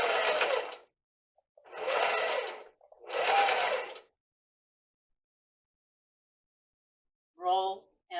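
A battery-powered sewing machine stitches fabric in three short bursts of whirring motor hum, each about a second long and separated by pauses, close and fairly loud, followed by a brief spoken phrase.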